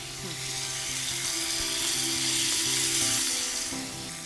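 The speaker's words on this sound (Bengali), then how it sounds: "আমি ফুলকপিটাও দিয়ে নিয়েছি, কারণ এটা একটু সময় লাগে ভাজা হতে" Potato and cauliflower pieces frying in a pan: a loud, steady, close sizzle that holds for several seconds and swells slightly in the middle before easing, with no one speaking.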